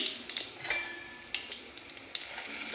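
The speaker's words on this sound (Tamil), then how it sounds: "நெய்யில் வந்து போட்டிருக்கேன் சிம்மில் வதக்கிக்கிறேன்" Food sautéing gently in ghee over a low flame for gulab jamun made from health-mix flour, with a soft, faint sizzle broken by small clicks and light taps of a utensil.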